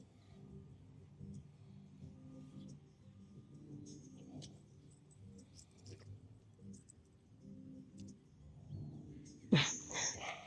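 A puppy whimpers and gives soft yips, close but faint, over a low murmur during a yoga class, with a louder sharp yelp near the end.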